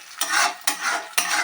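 Peas and tomato frying in a pan, with three quick spatula scrapes and stirs, each bursting into a close hiss of sizzling oil.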